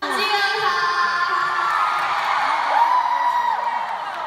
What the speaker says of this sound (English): The fans were screaming really loud when she introduced herself